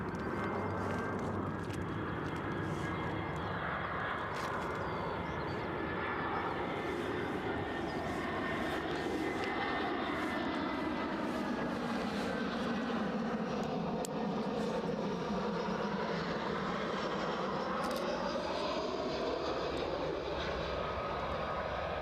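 An EasyJet airliner roars past at Edinburgh Airport, a loud sustained jet rumble whose pitch sweeps and shifts as it passes, continuous throughout with no talk.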